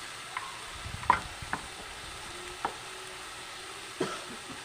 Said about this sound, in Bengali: নুন দিয়ে ভালো করে কষে দেবো মশলাটা